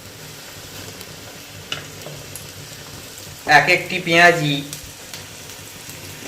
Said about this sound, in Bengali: এরপর গরম তেলে ছেড়ে দেওয়া হলো,